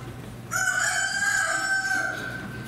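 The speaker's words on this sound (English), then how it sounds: "Hey, Andrew, can we have a rooster crow?" A single rooster crows loudly and close by, one long drawn-out call that starts abruptly and fades at the end.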